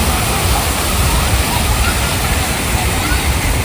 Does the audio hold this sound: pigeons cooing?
no